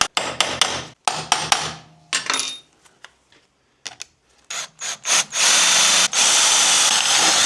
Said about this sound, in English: centre punch the holes for drilling metal.